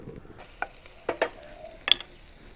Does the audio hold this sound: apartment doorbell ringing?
no